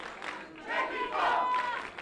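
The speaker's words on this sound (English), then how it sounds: "and the local crowd in good voice" Local crowd at a rugby under-19 tournament in Mexico City, cheering and shouting in swelling waves, moderately distant, with voices mixed through.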